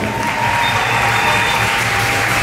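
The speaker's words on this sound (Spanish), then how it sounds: "así que fuerte el aplauso para él" Steady audience applause at a pageant opening gala, dense continuous clapping from a large crowd filling the space with an even, sustained roar, a faint musical tone running underneath.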